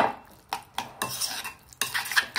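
A spoon stirs and scrapes mixed berry jam in a dish to loosen it, making several distinct clinks and scrapes in an irregular rhythm, close by, with no talking.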